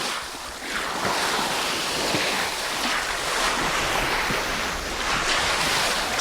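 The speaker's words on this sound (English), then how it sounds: "it was the sound of the ocean lapping against the side of this iceberg." Ocean swell lapping against the side of an iceberg: a continuous, fairly loud hissing wash of water with gentle surges and coarse scraping texture, heard close and without voices.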